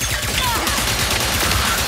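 Rapid gunfire in the PS5 game Ratchet and Clank: Rift Apart, a loud continuous volley of shots and energy blasts that fills the whole moment.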